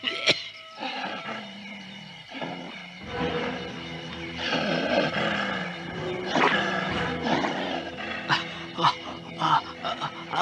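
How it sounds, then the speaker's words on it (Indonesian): Wild boar grunting and snorting in a forest setting, a continuous rough animal roar with repeated guttural bursts, close and fairly loud, layered over dense background ambience with no speech. "Aku mendengar ada suara seekor babi hutan."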